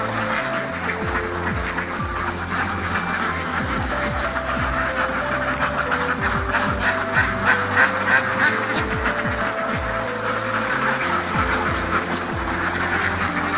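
A crowd of ducks on a farm that combines duck raising with rice cultivation quacks and honks continuously, with many overlapping calls close by and spread across the whole stretch.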